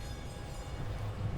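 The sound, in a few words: tram passing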